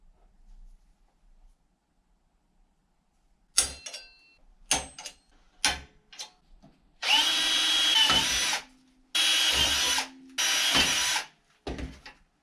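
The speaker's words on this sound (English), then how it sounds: "we'll drill some holes and then we can test fit it." A power drill bores holes in metal brackets for a 1992 Dodge Colt 4G63 roll cage, starting with short clicks and bursts and then running in three loud, sustained whirring runs with brief pauses.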